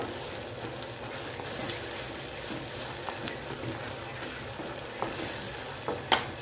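Manathakkali berries fry in a pan for vathal kuzhambu with a steady close sizzle, broken by a few small stirring clinks near the end.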